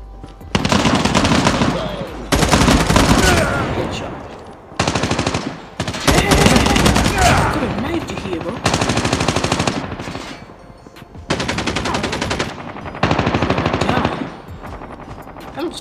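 Gunfire in Call of Duty Mobile comes as rapid machine-gun bursts separated by short pauses, loud and up close, with game sounds filling the gaps.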